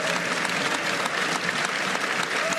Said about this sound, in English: After the vote, a large part of the hemicycle burst into applause and cheers.